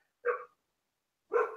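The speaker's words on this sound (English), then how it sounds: "that's my dog." A dog gives two short, separate barks about a second apart, the rest is quiet, and the sound is moderately close.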